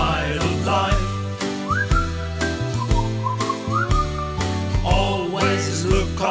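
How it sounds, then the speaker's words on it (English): A whistled melody from the song Always Look on the Bright Side of Life rides over a bouncy musical accompaniment, bright phrases recurring through the passage with no spoken voice. "just purse your lips and whistle, that's the thing"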